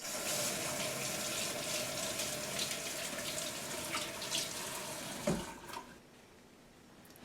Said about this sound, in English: we're just going to do a quick rinse in the sink